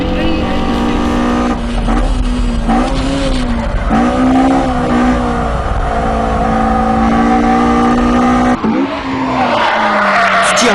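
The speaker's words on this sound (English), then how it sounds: "This particular vehicle that I'm driving here today is a 1985 GT Apex Terreno Sprinter" A 1985 Toyota AE86 GT Apex Sprinter drives hard, its engine revving loudly and rising and falling through gear changes, with tyre squeal and skidding close by. Someone talks over it.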